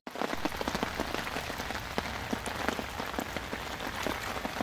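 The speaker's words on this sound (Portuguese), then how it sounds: "Chuva torando aí, ó." Heavy rain pours down at a reservoir during a fishing trip after a storm, a dense continuous hiss of drops pattering loudly and close on water and nearby surfaces, with no voices.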